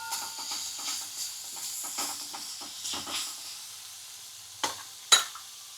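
Onions sautéing in a pan for veg paratha: a steady, close sizzle and crackle of frying, with light stirring scrapes, and two sharper pops or clinks near the end, without any talking.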